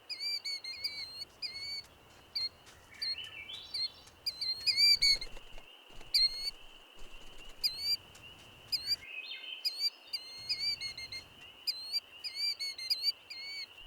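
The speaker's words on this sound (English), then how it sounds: "The return of White-Paws causes the birds react" Several small birds call and chirp repeatedly near their nest, sharp whistled notes coming in clustered bursts over a quiet outdoor background, fairly close and clear.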